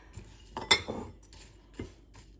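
A spoon clinks against a bowl while seeds and raspberries are mixed through, giving a few sharp close metallic taps and scrapes spread irregularly over a couple of seconds, with no talking.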